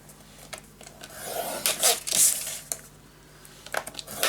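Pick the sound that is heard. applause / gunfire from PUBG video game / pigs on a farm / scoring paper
scoring paper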